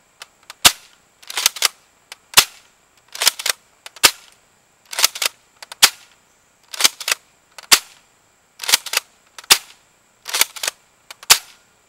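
A Blaster Pro S2500 gel blaster fires angled shots outdoors, sharp snapping cracks in short bursts of two or three with brief pauses between them, loud and close with no talk.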